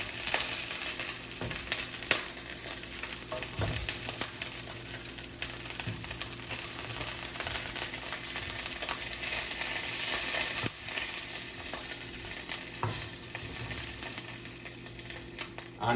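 Steak pieces for beef stroganoff browning in a frying pan sizzle steadily and loudly throughout, with occasional small pops and scrapes over the continuous hiss.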